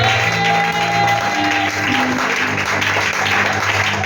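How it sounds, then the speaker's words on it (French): Church congregation applauding loudly and continuously in a dense, steady wash of clapping, with faint voices mixed into the crowd noise. "on acclame déjà Jésus"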